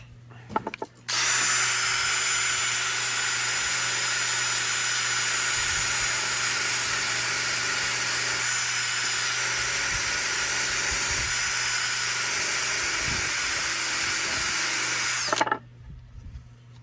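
A power tool whirs steadily for about fourteen seconds while polishing a wooden mast fitted with a 40 caliber shell casing, a loud continuous high-pitched drone that starts and stops abruptly.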